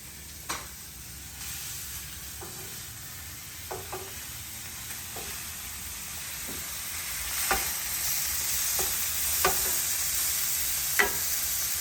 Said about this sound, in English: let me go ahead and flip the meat that we've got browning